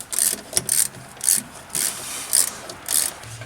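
A ratchet wrench tightens bolts on a C10 pickup truck under restoration, its rapid clicking coming in about six short bursts with brief pauses between strokes, close and fairly loud.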